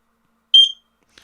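An X-Sense WS01-WT Wi-Fi smoke detector gives a single short, piercing high-pitched chirp when its button is held for pairing, followed by a faint click, in an otherwise quiet room.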